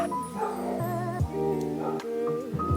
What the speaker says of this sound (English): Will Smalls ever stop barking?